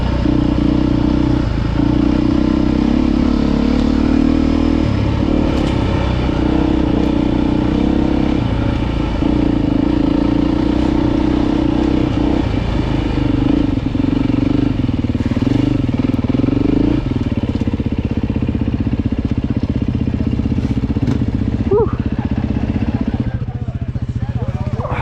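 A Beta dirt bike is ridden at a demo day, a loud, steady engine drone up close with clattering and scraping off-road noise, and a rider's voice talks over it at times.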